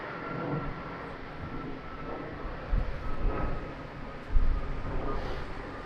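Ryanair airliner going around at Lisbon Airport in strong wind, a broad steady jet engine roar held at a distance, swelling in a couple of louder gusty surges toward the end.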